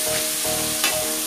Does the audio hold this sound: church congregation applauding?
no